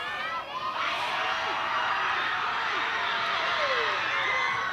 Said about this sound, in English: Fantastic crowd support, you may be picking some of that up on the audio.